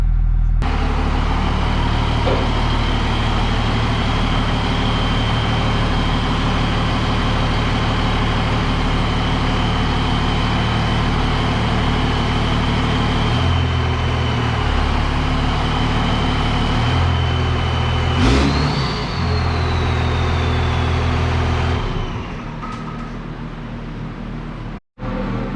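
A 1966 International Loadstar 1600 truck engine runs steadily at idle for over twenty seconds, a loud, close, low rumble that drops off abruptly near the end.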